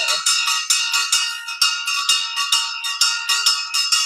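A bell rung during a live maker workshop stream announcing a giveaway, struck in a fast steady series of about a dozen bright, ringing strokes that overlap and sustain, close and fairly loud with no talk.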